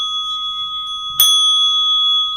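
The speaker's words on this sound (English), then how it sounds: "can you give me a couple of bells?" A meditation bell is struck during a zazenkai sitting, one sharp clear strike over a steady sustained ring that lingers loudly and alone.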